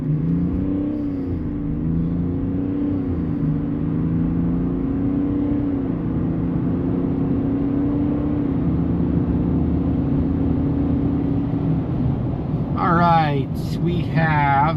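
A 3.0 Duramax diesel truck, fitted with an Edge EZX tuner, pulls hard from a 1500 RPM launch through a 0-60 run, its engine droning steadily from inside the cab with a rising tone, and a brief voice cuts in near the end.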